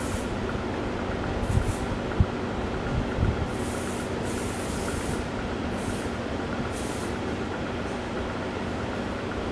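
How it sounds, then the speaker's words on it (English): Shine spray misted onto styled hair, a steady hissing spray running continuously and close for the whole stretch, with a few faint knocks beneath it. "my last little finishing touch is going to be my shine spray"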